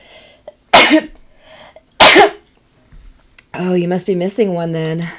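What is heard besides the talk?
sneeze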